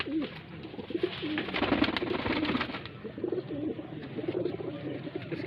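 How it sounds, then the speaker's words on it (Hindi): A rare Khairan pigeon, a highflyer breed kept in Bareilly, coos repeatedly in soft, low, rolling phrases close by, with steady background noise and no talking. "दोस्तों खैरन कबूतरी बहुत ही लाजवाब, बहुत ही रेयर है दोस्तों।"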